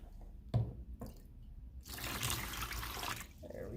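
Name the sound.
rinsing etched glass with fresh water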